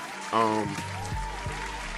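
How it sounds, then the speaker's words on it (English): A host claps his hands on a talk show set, giving a steady stretch of applause-like patter that runs through the whole moment, blended with voices and tonal sounds. "I gotta clap it up again."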